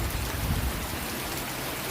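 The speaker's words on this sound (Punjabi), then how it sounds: "ਮੀਂਹ ਹਟਿਆ ਨਹੀਂ ਕੱਲ ਦਾ" Steady rain falls on a village, a dense, even hiss of drops on surfaces that carries on unbroken and fairly loud, with no voices.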